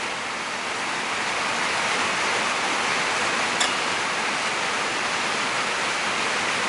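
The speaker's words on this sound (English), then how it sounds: "It is downpouring the rain here." Heavy rain pours down outside during a Stihl 034 AV chainsaw session, a dense, loud, even hiss that fills the whole clip, with a single faint tick partway through and no talking.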